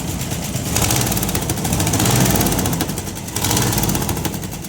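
Freshly repaired old engine running steadily after a first start, a rough, busy idle with dense mechanical clatter, loud and close, with slight swells in revs and no talking.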